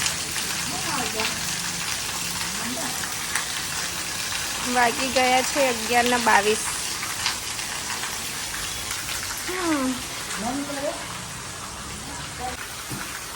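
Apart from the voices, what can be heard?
rain falling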